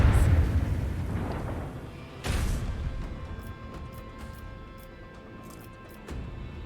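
Ship's lance firing in Warhammer 40K Rogue Trader: a deep booming blast that opens loud and rumbling, then a second sharp burst that decays into a long low rumble, with another thump near the end.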